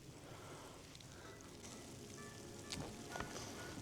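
Rain falls steadily on a lake shore during cold-weather bank fishing, a dense even hiss with a few sharper patters near the end and no talking.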